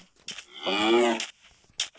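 Cows lowing inside the Minecraft video game: one long drawn-out moo sits in the middle, framed by shorter game sounds just before and after it, with no talking.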